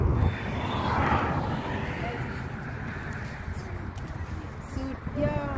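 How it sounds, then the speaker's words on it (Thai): An airplane passes overhead outdoors while grass is being gathered in a field. Its steady broad roar fills the whole stretch, with a dove cooing faintly on top. "เสียงเครื่องบินก็ผ่านเนาะเสียงเครื่องบินก็ผ่าน"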